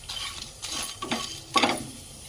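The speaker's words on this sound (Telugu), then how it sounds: "ఇలా మిరియాలు, చెక్క, లవంగాలు, యాలక్కాయలు మంచిగా వేపుకోవాలండి" Dry red chillies with whole garam masala spices (peppercorns, cinnamon, cloves, cardamom) roasting in a pan for mutton masala curry, heard as close rattling, scraping stirs in several short bursts, the loudest near the end.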